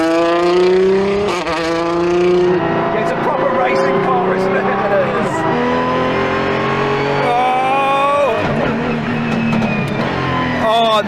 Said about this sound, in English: The exhaust on the overrun.